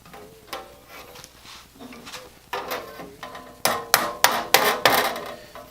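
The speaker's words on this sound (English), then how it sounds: "So I'm just going to give it a couple of taps with my hammer." A hammer taps on a Disston hand saw to knock its handle loose, starting with soft irregular knocks and building to five or six sharp, loud metallic strikes in a row, close by with no talk.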